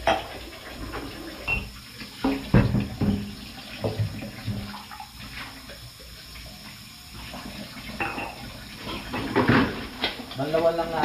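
Tap water runs into a sink while rice is rinsed, a steady wash with occasional splashes and knocks, voices talking over it intermittently.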